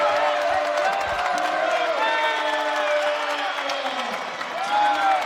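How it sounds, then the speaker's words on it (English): College men's basketball crowd erupting after a long two-pointer, loud cheers, whoops and clapping filling the gym in a sustained roar, with excited shouting voices rising and falling throughout. "And the crowd goes wild."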